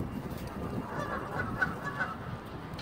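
Geese and ducks honking in a loose, overlapping flock, a few calls standing out over a steady low outdoor rumble.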